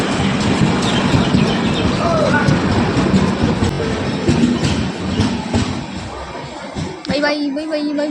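Inside a moving train compartment, a loud rumbling roar and rattling carriage noise run throughout, with a voice talking over it and a sharper clatter near the end.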